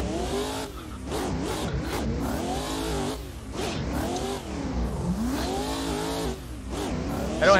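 A V8 BMW M4 race car in a racing game winds up through the gears, each rising engine howl cut by a quick shift dip, loud and close throughout.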